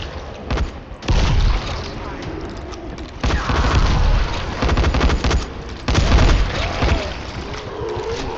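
Gunfire in a video game, repeated bursts and booms at close range with a dense, noisy mix, heard under someone talking.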